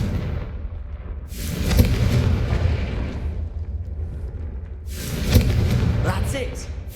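Two heavy blasts from the Confringo fire spell in Hogwarts Legacy, each a loud, rumbling burst that fades slowly, set a few seconds apart over a steady game background.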